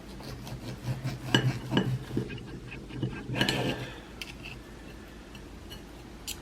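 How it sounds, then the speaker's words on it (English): Cooked bacon-wrapped pork loin is cut on a hard surface, giving a few close clinks and scrapes of a knife, then a brief rustling burst before fading to quiet background. "she wants me to grab some of this pork and cut it"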